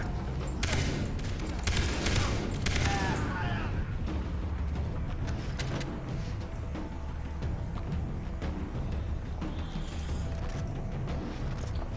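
Gunfire in the video game Far Cry 3: a burst of sharp shots clusters in the first few seconds, then the firing eases into sparser, quieter reports over a steady game backdrop.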